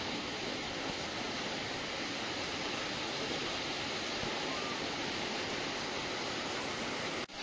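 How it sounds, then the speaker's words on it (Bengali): Heavy rain pours down in a dense, steady roar of broadband hiss that stays loud and unbroken throughout, with no voices. "ভীষণ বৃষ্টি হচ্ছে আজকে। দেখো জল ধরে বৃষ্টি হচ্ছে।"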